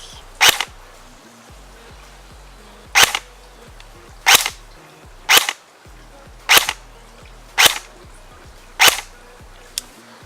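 A KWA Ronin PDW airsoft gun fires 0.28 gram AEX BBs on its lowest power setting, giving seven sharp, evenly spaced snapping shots followed by one quicker, fainter pop, close and clear with no talking.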